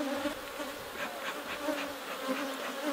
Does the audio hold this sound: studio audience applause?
no